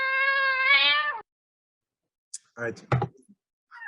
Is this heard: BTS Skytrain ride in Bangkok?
no